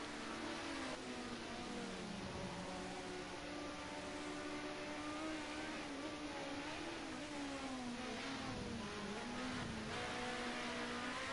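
Ford Sierra Cosworth Group A touring cars race around a wet Mount Panorama in a racing game, a steady engine drone with shifting pitch holding throughout under spray-like hiss, no voices.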